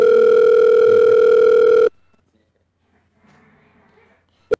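A loud, steady telephone tone hums for almost two seconds while a number is dialled, then cuts off into near silence with faint muffled sounds.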